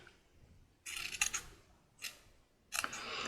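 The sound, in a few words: scissors cutting along the edge of a paper trim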